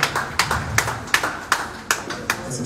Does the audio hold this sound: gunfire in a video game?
no